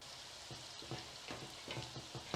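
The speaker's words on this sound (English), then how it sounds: "Así vamos a ir dorando toda la tortilla que tengo acá, de a poquita, para que se dore bonito" Tortilla pieces frying in a pan make a soft, continuous sizzle with gentle rhythmic stirring scrapes, fairly quiet and close, with no voices.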